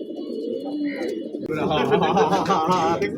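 Several pigeons coo nearby in low, rolling, repeated calls, while a person talks over them for much of the time.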